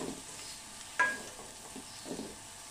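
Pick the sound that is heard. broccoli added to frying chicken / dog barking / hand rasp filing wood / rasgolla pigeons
broccoli added to frying chicken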